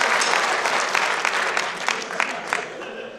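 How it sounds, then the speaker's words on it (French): An audience claps warmly at a Christmas show, with dense, steady applause that swells briefly and then starts to fade over a few seconds. "Je pense qu'on peut les applaudir."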